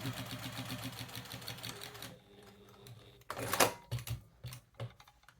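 Sewing machine stitching binding onto a quilt, a rapid rhythmic mechanical chatter for about two seconds that then stops, followed by a few clunks and handling noises, no speech.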